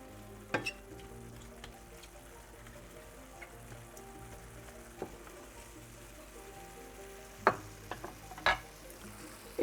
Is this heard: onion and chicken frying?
yes